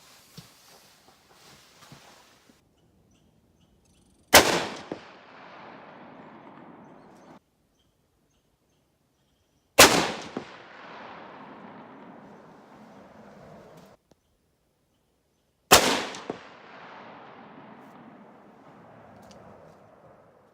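Three loud rifle shots from a 1950 BRNO 21H chambered in 7x57, fired at an outdoor range, each a sharp crack with a long rolling echo, spaced about six seconds apart with near silence between.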